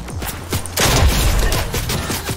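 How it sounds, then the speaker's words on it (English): A burst of rapid gunfire crackles in a Fortnite battle, loud and close, with dense overlapping shots after a few scattered thumps at the start. "They're shooting at me."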